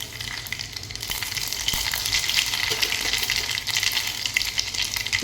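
Mustard seeds sizzle and crackle in hot oil in a pan, a steady close hiss with scattered pops running throughout, no voices.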